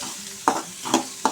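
Chopped onions frying in a pan for a vegetable-free kurma, a soft steady sizzle broken by three quick scraping stirs, close and brief with no voices.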